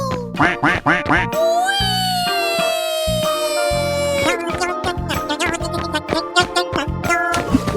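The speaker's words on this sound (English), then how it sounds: "Quack, quack, quack, quack." Cartoon duck quacking in a 3D animal slide video game, a rapid series of loud, close quacks alongside bright sliding and siren-like game tones, with more quacks near the end.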